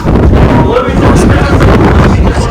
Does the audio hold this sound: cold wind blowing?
yes